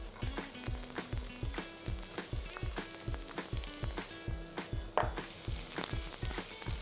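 Chopped onions and garlic frying in a pan, a close continuous sizzle broken by regular soft stirring taps and scrapes of a utensil against the pan.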